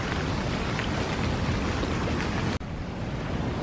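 Steady, dense hiss of heavy rain in India, constant throughout with a brief cut near the end.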